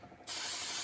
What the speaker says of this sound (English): I am going to spray just a little bit more hairspray.